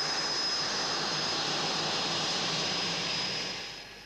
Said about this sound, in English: As Jim taxis out